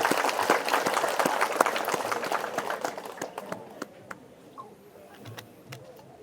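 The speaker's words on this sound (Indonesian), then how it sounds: "Boleh tepuk tangan?" Audience clapping at a talk event in Bali, a dense burst of many hands that thins out and fades to scattered claps over several seconds.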